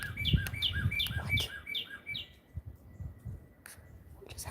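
A bird chirps outdoors at sunrise, a quick series of bright repeated tweets followed by a single later call, clear against a quiet rustling background with no speech.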